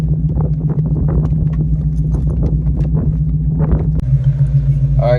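A Coyote-swapped SN95 Mustang makes a wide open throttle pull. Its loud, steady engine drone holds close by, shifts pitch sharply near the end and comes back, and excited voices are heard over it.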